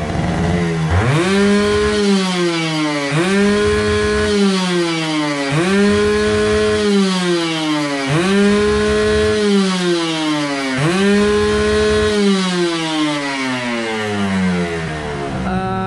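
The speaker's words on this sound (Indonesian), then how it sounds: "Saya udah 29 tahun memblayer motor 2 tak seperti ini." A two-stroke motorcycle engine with a reamed carburetor is revved hard to the top of its range, five repeated rising wails, each climbing sharply then dropping back, loud, close and continuous with no talking.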